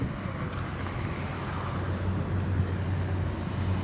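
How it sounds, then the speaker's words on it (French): A truck heading off to dump its load at a construction site rumbles as a steady, low engine drone in the middle distance, with wind noise on the microphone. "le camion qui va là-bas, qui est en train de partir déverser"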